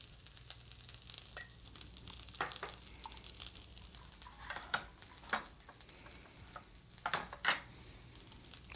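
Onions sizzle in a pan with butter while a utensil stirs them, giving a steady, moderately quiet fry with sharp scraping clicks and pops scattered throughout and no talking.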